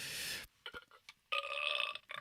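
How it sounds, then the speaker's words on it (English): A single loud, drawn-out burp stands alone with no talk around it, bracketed by short bursts of other sound. "That actually sounds like your burp"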